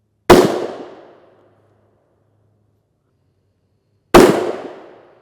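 Two sharp, loud 7N6 rifle rounds strike a Highcom level IV armor plate about four seconds apart, each a single crack-like impact with a short decaying tail, with silence between.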